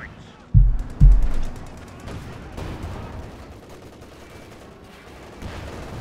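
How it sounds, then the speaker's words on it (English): Artillery bombardment falls on a Sherman tank in Company of Heroes 2: two heavy close blasts land about half a second apart, then a rumbling, crackling battle din trails off with a faint later thump. "Bit of bombardment for the Sherman"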